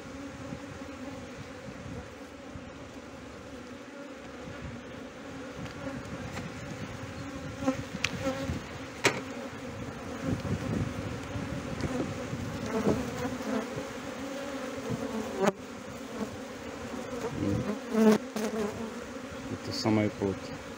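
Honey bees hum continuously around an opened beehive during an April hive inspection in Brno, a steady moderate drone with occasional louder passes near the microphone and faint handling sounds, no clear speech.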